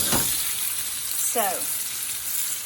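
Shrimp and chicken frying in a pan with a steady, close sizzle throughout, broken by a couple of brief stirring or scraping sounds and a short spoken word.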